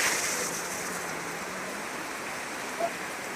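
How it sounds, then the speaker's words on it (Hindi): Heavy monsoon downpour in Kolkata, a dense, steady hiss of rain that stays constant and fairly close with no other sounds over it. "घमासान बारिश।"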